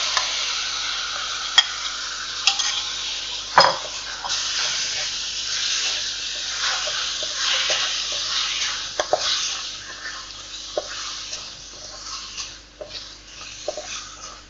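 Chicken marinated with salt, lemon juice, pepper powder and curry leaves sizzles loudly in hot oil, a continuous close hiss broken by scraping stirs and a sharp clatter early on.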